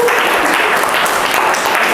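A classroom group claps for a student presentation group, a steady, dense applause close by and loud throughout, with no break.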